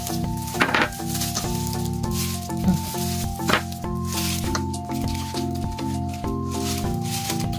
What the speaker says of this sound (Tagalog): Haluin na po. Sama na po natin yung butter.